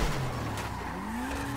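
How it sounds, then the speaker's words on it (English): A car in GTA Online skids with a brief rising tire squeal over a steady engine hum, loud and close. "I think I was also looking at this person while I crashed into the car."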